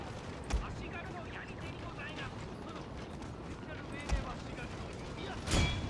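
Musket gunfire in a Shogun 2 samurai battle, with a few sharp, distant cracks spaced seconds apart over a low, constant battle rumble. The whole scene is faint.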